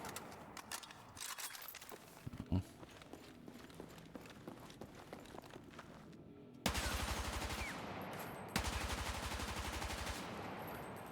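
Rapid rifle fire in the shooter Battlefield 6, starting as scattered shots and footsteps, then breaking into loud, fast sustained automatic bursts near the listener, with brief pauses between strings.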